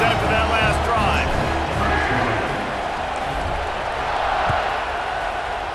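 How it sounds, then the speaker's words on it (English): Stadium crowd roaring at kickoff in the College Football 26 video game, a loud steady wall of cheering with whoops, partly under a commentator's voice. "this crowd is feeling themselves after that last drive"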